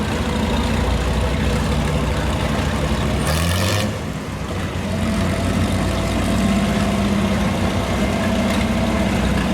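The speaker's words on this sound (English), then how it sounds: "Next we got a 1959 International Harvester" A 1959 International Harvester tractor in a town parade idles with a steady, low, rumbling throb, a short mechanical clatter breaking in partway through before the idle settles again.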